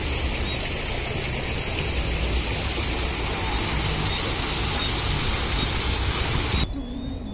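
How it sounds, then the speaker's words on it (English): A small waterfall in Bridgetown, Barbados gives a steady, loud broadband rush of falling water, close and continuous for several seconds before cutting off abruptly. "So there's actually a little waterfall going over here for a little scenery."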